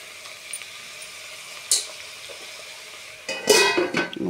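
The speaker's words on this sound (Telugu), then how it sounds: "దీన్ని బాగా కలుపుకొని సిమ్లో పెట్టి" A pan of kondapindi curry with turmeric, mixed and set on low heat, gives a faint simmer with soft sizzle and a few brief stirring or pan clinks.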